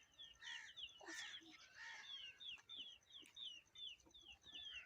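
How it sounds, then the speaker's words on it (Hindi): Several roosters on a village egg-laying hen farm crow repeatedly over one another, short bright cackles and crowing cries, fairly close, with no talking. "ये भी आपको दिखाता हूँ जो बांगे दे रहे हैं"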